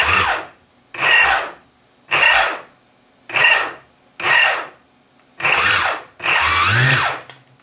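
An electric motor on a giant hexacopter, motor number four on test, whines up in seven short bursts with brief silences between them, the last run lasting longer.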